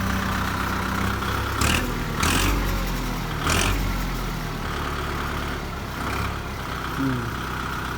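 A new Kubota MU4902 tractor engine idles up close and is blipped several times, with short bursts of revving rising over the steady running note.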